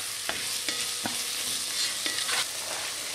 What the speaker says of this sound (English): I'm going to add 4 large garlic cloves, which I minced. I'll cook this, just for a minute.